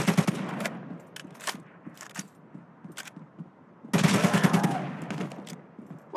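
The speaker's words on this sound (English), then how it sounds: "Let's try some accuracy shooting." Sharp automatic bursts of gunfire crack out during target shooting practice in ZOZ: Final Hour, close and loud in rhythmic volleys, pausing briefly before a denser, louder burst in the second half.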